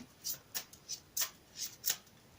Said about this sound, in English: I'll give them a quick shuffle